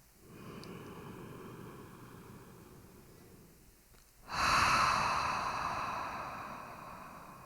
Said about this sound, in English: Take a deep inhalation through the nose. And exhale everything out through the mouth.